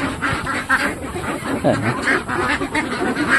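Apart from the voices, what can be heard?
domestic ducks quacking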